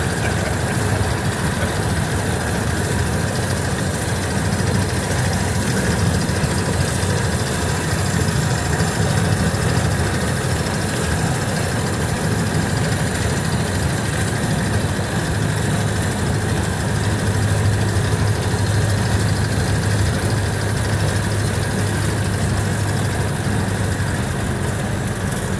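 A 1929 Ford Model A Woody station wagon engine drones steadily while driving at road speed in third gear, a loud, constant low rumble with vibration and road noise throughout and no talk.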